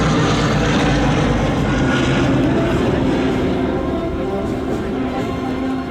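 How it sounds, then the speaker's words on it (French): A Douglas DC-3 Dakota propeller airliner drones loudly and steadily through an air show flypast at Biscarrosse, a continuous engine rumble filling the air. "Le Douglas DC-3, qui était connu pendant la guerre sous le pseudonyme de Dakota"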